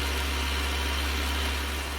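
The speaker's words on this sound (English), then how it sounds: "the tractor is motoring along nicely" A Fordson or Nuffield tractor engine hauls a load across wet, rain-soaked grass while hay carting in 1966, a loud, steady, unbroken drone close by.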